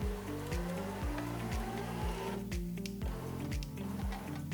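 A Somfy solar roller shutter motor drives the shutter upward, a steady mechanical hum with regular rhythmic clicking pulses repeating about every half second, close and moderately loud.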